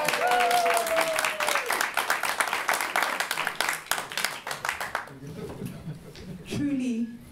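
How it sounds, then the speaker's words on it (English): A theatre audience claps for itself at an evening performance, dense applause filling the first five seconds before thinning into scattered claps, with voices and a brief tonal sound near the end. "Please, give yourselves a big round of applause."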